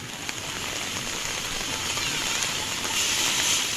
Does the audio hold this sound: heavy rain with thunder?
yes